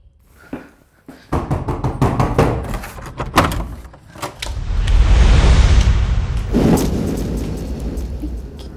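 Heavy knocking and banging on a door in a Pakistani drama scene, a series of loud sharp thuds followed by a sustained rumble like a door being rattled or slammed, with no talk over it.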